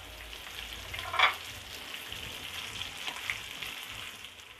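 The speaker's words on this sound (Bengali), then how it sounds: "ক্যাপসিকামগুলোকে আমি হালকাভাবে ভেজে নিব।" Green, red and yellow capsicum lightly frying in a pan, a soft steady sizzle with a brief louder crackle of stirring near the start, close by and alone without talk.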